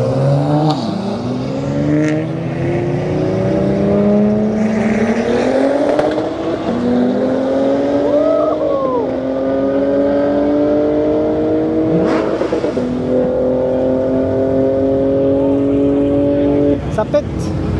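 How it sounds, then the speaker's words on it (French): BMW M3 G80 in British-style green drag racing a Dodge, engines revving hard with rising gear-by-gear pitch sweeps and shifts, loud and close, with someone talking over it. "Petite BMW M3 G80. Une jolie config, une espèce de vert anglais. Contre une Dodge"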